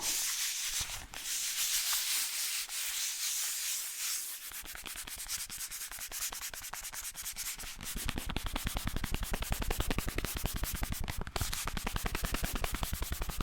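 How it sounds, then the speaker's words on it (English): Fast rubbing as an ASMR trigger, a close, continuous brushy friction that starts softer and then turns into rapid, even back-and-forth strokes that grow louder, with no speech. "Fast rubbing, I mean."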